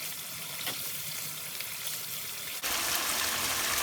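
Tomato masala for tandoori chicken gravy sautés in a pan with a soft, continuous sizzle and a faint bubbling texture. The sizzle grows abruptly louder and brighter near the end.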